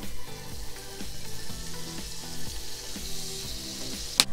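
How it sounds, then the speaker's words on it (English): Three tablespoons of butter melt and sizzle in a pan for Swedish meatball sauce, a steady bright hiss over a patterned low hum, with one sharp click at the close. "I'm gonna melt 3 tablespoons of butter"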